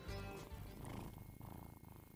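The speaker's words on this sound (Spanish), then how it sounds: "Ahí está ronroneando." A two-month-old kitten purrs very faintly and close in a quiet indoor setting, a soft continuous rumble with a slight pulsing rhythm.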